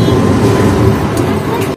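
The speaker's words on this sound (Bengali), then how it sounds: "ট্রেন যাচ্ছে, সিজি দিদি টাটা করছে। টাটা, ট্রেন চলে গেল।" A train passes close by with a loud, steady, broad rumble and rattle that fills the whole stretch.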